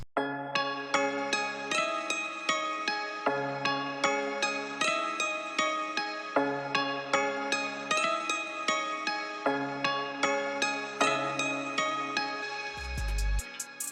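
An arpeggiated FL Studio sample with a 50% halftime effect loops its plucky notes in a steady cycle, then a deep bass hit lands near the end.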